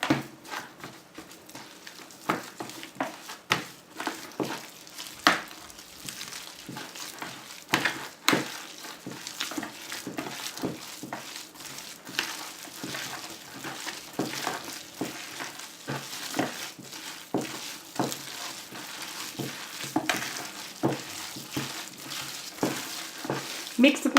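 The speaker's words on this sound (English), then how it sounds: "Mix the glue in very well before you add the rest of the ingredients." Paper clay being stirred by hand as glue is worked into the mixture, giving a steady run of wet, squelching scrapes and clicks that repeat in a loose rhythm, close and fairly loud, with no talking.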